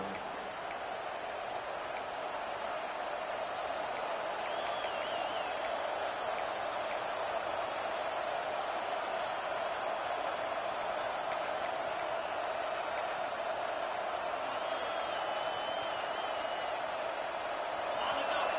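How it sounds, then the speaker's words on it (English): A large American football stadium crowd roars in a steady, dense wall of noise during a Georgia timeout, staying loud throughout, with occasional whistles cutting through. "Listen to this crowd just shaking the girders of this place"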